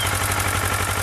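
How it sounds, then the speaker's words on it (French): A motorcycle engine runs at a steady idle after starting, with a low, even throb and a rapid regular pulse, close and continuous throughout with no voices. "il faut mettre le moteur en marche"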